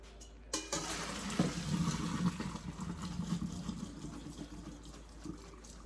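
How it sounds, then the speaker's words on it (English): Water draining from a pot of boiled macaroni noodles, a sudden clank followed by steady pouring and gurgling, moderately close and continuing to the end. "when you drain them, just let all that water come out"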